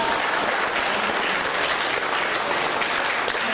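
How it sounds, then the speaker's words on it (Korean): Steady, dense applause from an audience, loud and continuous throughout with no pauses. "네, 다시 한번 박수 부탁드리겠습니다."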